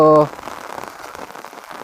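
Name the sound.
heavy rain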